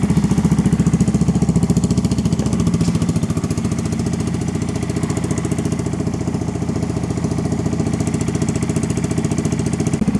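A Honda Monkey motorcycle fitted with a cheap AliExpress aftermarket exhaust idles steadily while warming up, a loud, even, rapid engine putter held close up with no talk.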